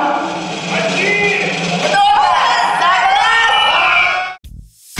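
A studio audience at a beauty contest awards show erupts in ovation for the winning team, with loud sustained cheering, whooping and shrieks that cut off abruptly near the end.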